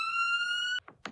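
A cartoon police car siren rings out loud and alone as a steady high electronic tone, cutting off abruptly before a few brief soft sounds.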